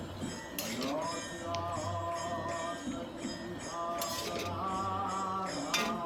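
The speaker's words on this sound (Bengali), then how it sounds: "এরপর ভালো করে আমি মিক্স করব চাউমিন। সুন্দরভাবে চাউমিনটাকেও ভাজতে হবে কিন্তু।" Vegetarian chow mein being stirred and fried in a pan, with a utensil clinking and scraping against the metal in irregular bursts while a person talks over it.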